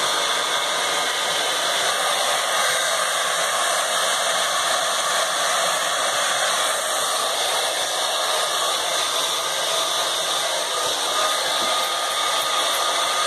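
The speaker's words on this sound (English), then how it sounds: "She doesn't like being held down to get blow dried, but she likes being blow dried." A hair dryer blow drying a ferret, a constant loud whooshing hiss with a steady motor whine, running without a break from start to finish.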